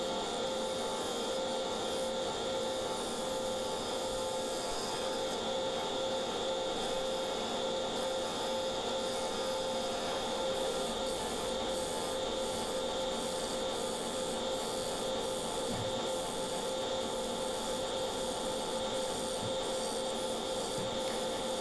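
Punky, partly rotten willow bowl turning on a wood lathe as the front face is trued level, a steady rubbing, rasping scrape of the cutting tool over a constant motor hum, continuous and fairly close with no talking.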